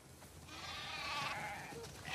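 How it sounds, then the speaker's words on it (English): Sheep bleating on a farm in The Last of Us Part II, a few wavering bleats close by over a steady low background hum, with no talk. "We definitely have way too many sheep."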